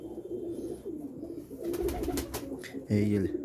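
Soft, low pigeon cooing murmurs close by, with rustling and a brief flutter, then a louder throaty coo at the end.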